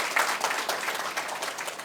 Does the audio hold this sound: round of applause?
yes